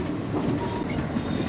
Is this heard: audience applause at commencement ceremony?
no